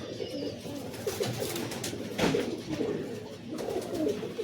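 Close, continuous cooing from Madras pigeons kept for sale, including a young hen, with overlapping throaty rolls swelling and fading and a brief rustle midway, no voices.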